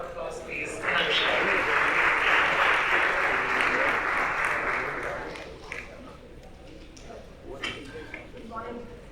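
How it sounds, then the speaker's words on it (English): An audience at the 2019 IIT Bay Area leadership conference breaks into loud, sustained applause for several seconds. The applause then fades as a voice begins speaking. "So give her a warm round of applause, please."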